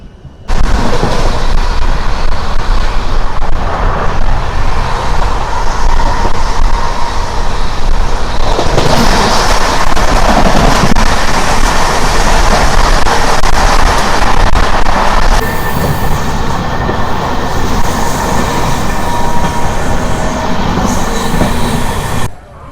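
The Karimnagar–Tirupati weekly superfast express with LHB coaches runs at speed, a loud sustained roar of wheels on rail with squealing and a shift in tone partway through, ending abruptly.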